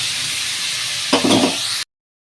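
Potato, papaya and plantain pieces fry with salt in a pan, a loud continuous sizzle broken by a brief stirring scrape before cutting off abruptly.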